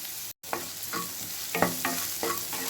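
Stuffing seasoned with garam masala and salt is sautéed in a pan, a soft sizzle under a series of spoon-scraping stirs every half second or so, each stroke crisp and close after a brief cut at the start.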